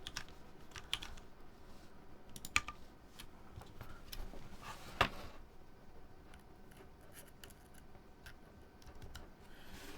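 Typing on a Polaris mechanical keyboard fitted with CRP keycaps and brown switches, a quiet irregular run of soft key clacks with a few sharper taps, close up and without talk.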